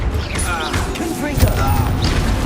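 Bombarda blast spell cast in the video game Hogwarts Legacy during a duel, a brief burst of crashing impacts set within constant game noise and combat chatter.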